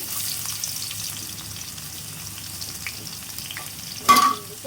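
Chopped onion and green chili frying in a pan, a soft continuous sizzle close by, followed near the end by one louder clatter of a utensil stirring against the pan, with no talking.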